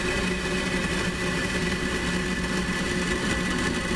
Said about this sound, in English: And a liftoff of Falcon 9.